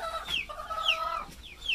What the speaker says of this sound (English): They're what's called Cornish cross chickens.